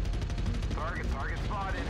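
Rapid machine gun fire from an Adder mech carrying 14 machine guns in the video game MechWarrior Online, a dense continuous rattle close and loud, with a voice speaking over it.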